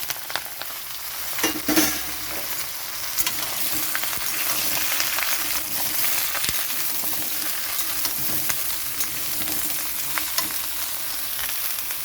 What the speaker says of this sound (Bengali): এখানে দিয়ে দিচ্ছি কেটে রাখা সবজি